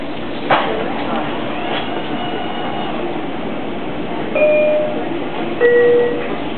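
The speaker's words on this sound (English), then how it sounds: "This is the train to Glenwood." Steady rumbling train noise fills the background at a station, with a few brief high tones and clanks, while an onboard announcement voice speaks over it.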